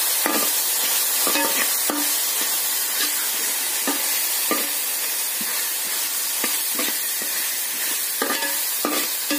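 Semolina upma frying in a pan while being stirred, a loud close sizzle with regular scraping spoon strokes every second or so, no voices.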